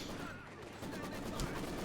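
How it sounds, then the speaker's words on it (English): Company of Heroes 2 battle noise: a dense, continuous clatter of machine gun and rifle fire, fairly faint and distant, with no clear pauses. "Machine gun here about to get wiped out."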